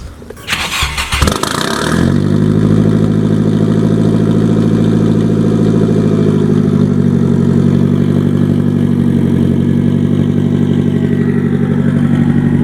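An SR20-swapped Nissan 240SX engine cranks with a burst of noise for about two seconds, then catches and settles into a steady, loud, close idle that holds for the rest of the time, with no talking.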